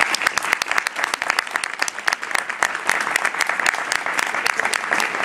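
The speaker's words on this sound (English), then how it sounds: "let's give them a huge applause" Loud, close audience applause at a 2013 school board candidates forum, sharp individual claps standing out over a dense, continuous patter that holds strong throughout.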